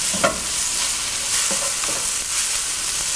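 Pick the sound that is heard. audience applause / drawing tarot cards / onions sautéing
onions sautéing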